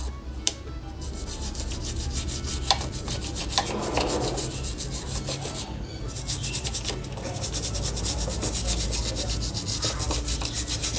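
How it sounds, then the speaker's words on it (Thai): Hand scrubbing of heavy black engine-oil stains with cleaning solution, a continuous close rasping rub with steady back-and-forth strokes and a few brief louder scrapes, no talking. "แต่ว่าผมจะขัดตรงที่มันมี คราบน้ำมันเยอะๆ"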